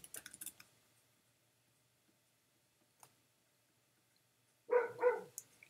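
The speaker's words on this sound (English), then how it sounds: "I have two dogs, and they can be annoying sometimes." Two sharp barks from a pet dog sound near and loud at the very end, after faint clicks and quiet stretches.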